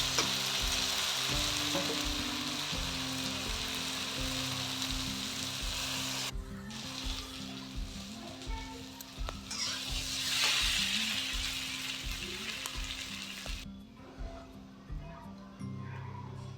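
Vegetable curry sizzles and fries steadily in a pan, a continuous close hiss with faint stirring and soft background voices, the sizzle turning duller toward the end.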